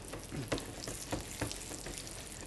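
Pork schnitzels with a sage and parmesan crust fry in a pan, giving a steady close sizzle with scattered pops and the odd soft clatter of the pan, and no voices.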